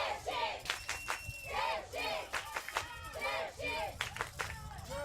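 Spectators cheering at a European ultimate frisbee championship match between Germany and the Czech Republic, rhythmic chanted shouts and claps rising and falling from a lively crowd, somewhat distant.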